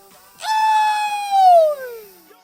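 A person on Mount Rinjani, Lombok, calls cattle with a single long, drawn-out vocal cry that holds steady, swells, then slides downward in pitch over about two seconds, loud and alone.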